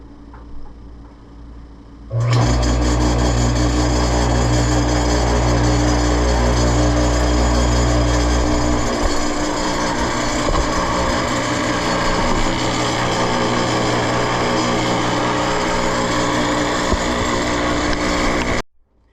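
A restored 10-inch Craftsman table saw starts up with a loud motor whine and settles into a steady, continuous hum with some vibration, running alone without any talk.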